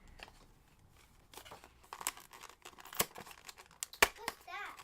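Taped product packaging for voice-recording earphones is crinkled and torn open close up in a few sharp rips and rustles, while a child and an adult talk over it.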